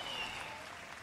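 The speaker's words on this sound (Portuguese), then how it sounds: "Se você vai aplaudir, faça bem forte." Audience applause in a church service, a brief, fairly quiet patter of many hands clapping at once.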